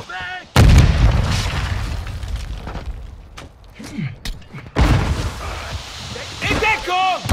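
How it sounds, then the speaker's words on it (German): Gunfire in the video game Call of Duty Modern Warfare 2 booms in heavy bursts with loud thumps and blasts in a firefight, while voices in the game shout between the shots. "Wir werden hier beschossen!"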